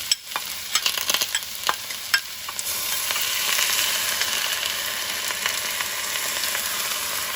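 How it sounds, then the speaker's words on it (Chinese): Chinese cabbage being stir-fried in a wok with a vinegar sauce: a steady, loud sizzle with quick scraping and clinking strokes of the spatula, heaviest at the start. "翻炒一下，让碗芡汁均匀裹住白菜"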